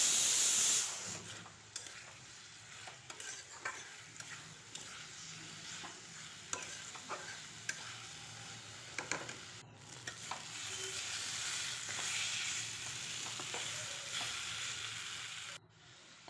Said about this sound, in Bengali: আলু আর পেঁপে, এর মধ্যে দিয়ে আবার একসঙ্গে মশলার সাথে মিশিয়ে নেব।